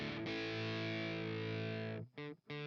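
Distorted electric guitar played through an amp and monitored via a Miko IR loader: one sustained, ringing chord held for about two seconds, then a couple of short, choppy stabs, close and full.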